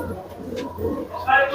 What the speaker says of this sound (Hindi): किंग साइज के कद्दावर साइज के ये कबूतर हम देख रहे हैं